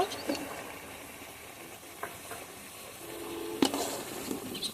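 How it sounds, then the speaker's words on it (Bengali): Meat cooked down with spices and chopped tomato sizzles in a pan, a soft continuous fry with a few brief stirring clinks and one sharper clatter near the end, no talking. "এখন কেটে রাখা টমেটোটা দিয়ে দেব।"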